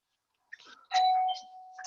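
A doorbell sounding in a home, a short two-tone chime heard once, fairly clear against a quiet background.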